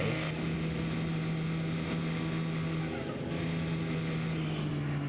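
Steady drone of a 2006 Cummins 5.9 diesel pickup in Farming Simulator 22, a low even engine hum cruising along with little change in pitch, moderately loud and continuous.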